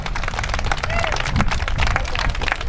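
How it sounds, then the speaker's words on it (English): Audience at a tractor run event gives a round of applause, dense continuous clapping mixed with crowd chatter and speech babble, fairly close and loud throughout. "give a big round of applause to John and of course to Sammy here"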